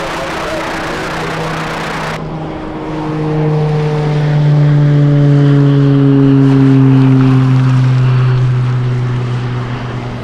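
A large cargo freighter aircraft at Anchorage airport in Alaska roars loudly nearby, its engine whine sliding in pitch as it passes or spools, rising and swelling mid-clip before easing slightly.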